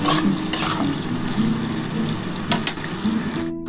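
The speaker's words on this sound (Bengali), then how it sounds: "আলুগুলো পেঁয়াজের সাথে ভাজবো। এর মধ্যে একটু নুন দেবো, একটু হলুদ দিয়ে আমি ভাজবো।" Potatoes fry with onions, salt and turmeric in a pan, a loud, constant close-up sizzle with occasional scrapes of a spoon stirring through it.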